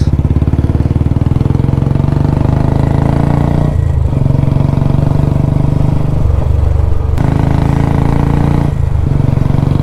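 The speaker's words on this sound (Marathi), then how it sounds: "तर बुलेट खूप दिवसानं चालवले मी, बघूया जरा." Royal Enfield Bullet motorcycle being ridden near a temple in Khidrapur, its thumping single-cylinder engine loud and close throughout, with steady low pulsing and a few brief throttle changes.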